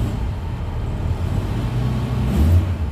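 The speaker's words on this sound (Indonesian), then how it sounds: "Nah, suara mesinnya juga masih enak." A 1995 Suzuki Katana GX engine idles at a steady, stable RPM, giving a continuous low rumble that stays even and close throughout, with a slight swell near the end and no talking.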